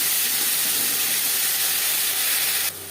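Ginger and green chili paste sizzling loudly in hot oil with panch phoron, a steady dense hiss that continues for most of the moment and drops slightly near the end.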